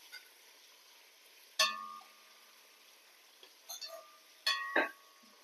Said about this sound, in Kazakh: Пияз салып, пиязды бір 2-3 минуттай қуырамыз.